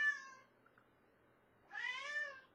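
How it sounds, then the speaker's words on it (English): A female house cat meows twice in a quiet room, a short harmonic mew at the start and a longer, louder, rising meow near the end, with a faint pause between. "My cat."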